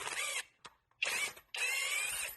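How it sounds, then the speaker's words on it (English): A ratchet wrench loosens the crank bolt on a Toyota 3MZ-FE engine from a high-mileage Sienna, giving three short bursts of rapid clicking, close and clear with brief pauses between. "Now let's remove the crank bolt."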